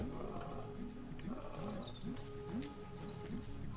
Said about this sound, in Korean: 나도 사자 소리 들려.